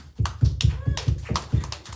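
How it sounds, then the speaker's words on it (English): Hands clap in steady, rhythmic bursts from the audience at an opening of a music event, a handful of loud, close claps repeating about every quarter second. "a round of applause to you"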